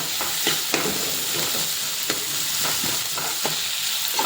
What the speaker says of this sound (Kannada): ಇದನ್ನು ಚಂದ ಫ್ರೈ ಮಾಡಬೇಕು.